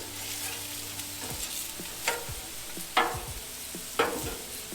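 Oil sizzles steadily on a hot griddle while bread warms for a chicken Philly cheesesteak, with a few sharp spatula clicks and scrapes punctuating the frying.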